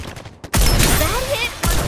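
Gunfire bursts in a Farlight 84 battle royale match: a sharp burst of shots after a brief lull, with a rising whistling tone, then another hit near the end.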